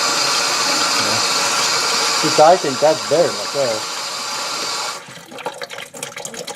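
Water runs from a newly installed kitchen sink faucet fitted with an aerator screen, a steady close rushing stream that continues under a man's brief speech and then cuts off, followed by small handling clicks.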